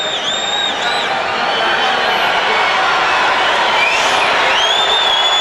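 A 1993 NBA arena crowd at a Denver Nuggets vs Phoenix Suns game reacts to LaPhonso Ellis with a sustained roar of voices and whoops, loud and steady, building slightly toward the end.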